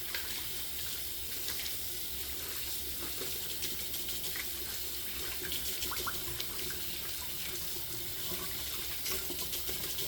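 Tap water runs steadily into a sink while someone rinses off after a straight-razor shave, a constant faint splashing hiss with small irregular drips and spatters throughout.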